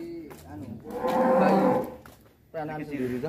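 A large Simmental-Limousin cross bull of about one ton lets out a deep, drawn-out moo in a livestock pen. The call swells and fades, and a shorter second low call follows.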